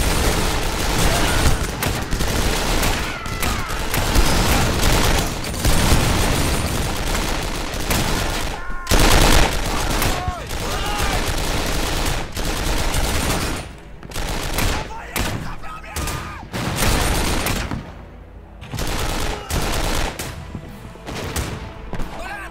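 Dense, nonstop gunfire from a war video game set in the battle of Dien Bien Phu: overlapping rifle and machine-gun bursts with heavy thuds, loud and close throughout, thinning into scattered shots near the end.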